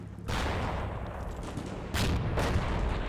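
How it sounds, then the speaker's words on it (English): Machine gun fire crackles in a war video game, two dense, loud bursts of rapid shots with booming low-end rumble, the second burst starting just before the two-second mark. "he's stopping here to machine gun people over here"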